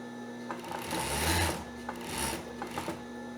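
A sewing machine stitches the seams of a two-color swimsuit, running in short close bursts of mechanical whirring with pauses and light rubbing of fabric between.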